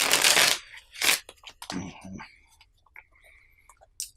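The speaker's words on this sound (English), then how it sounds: "Give this a riffle shuffle real quick." Board game cards are riffle shuffled in two brisk bursts of fluttering, snapping card noise, followed by soft handling taps, with someone speaking quietly in between.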